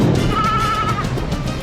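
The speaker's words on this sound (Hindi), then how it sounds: "अल्लाह, मेरी भेड़।" A single sheep bleats with a long, wavering cry that rises out of steady background noise and then fades, fairly close.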